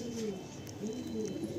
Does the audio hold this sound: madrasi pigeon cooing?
yes